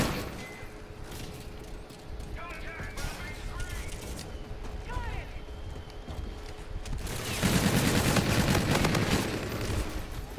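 Gunfire in the video game Call of Duty: Infinite Warfare, with dense crackling shots and a louder burst near the end, layered over game effects and music throughout.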